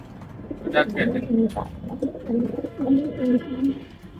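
Racing pigeons coo repeatedly in soft, rhythmic low calls while being packed into a toss box, heard close up with some faint background voices.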